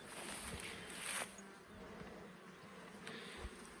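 A steady, low drone of many honeybees buzzing around a hive, soft and continuous, with no voices.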